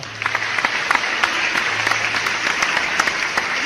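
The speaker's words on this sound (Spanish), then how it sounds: "Pues entonces denle un aplauso al Señor por eso." A church congregation claps steadily, dense applause continuing throughout at an even, fairly loud level.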